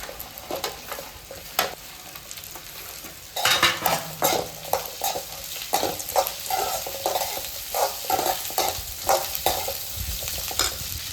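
Onion, green chilli, curry leaves and vegetables sautéing in a pan with salt, a soft sizzle beneath repeated spoon scrapes and clinks against the pan, close and rhythmic, with no talking.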